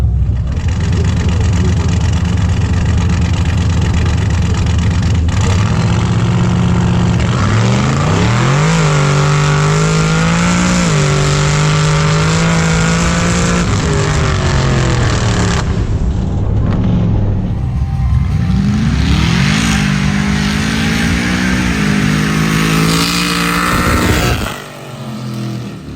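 A nitrous-boosted 4.8L engine with 300,000 miles, mystery cam and a 250 shot roars at the drag strip, loud and close, climbing through several rising revving pulls before easing off near the end.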